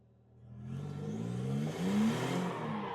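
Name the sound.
car engine revving while practicing drifting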